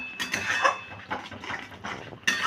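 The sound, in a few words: stirring semolina batter in a bowl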